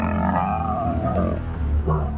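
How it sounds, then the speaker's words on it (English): A male lion in Sabi Sand roars in pain during a fight with rival males, a loud, deep, ragged roar sustained for about two seconds with a brief strained grunt at the end. "We heard what it sounds like for a male lion to scream from pain."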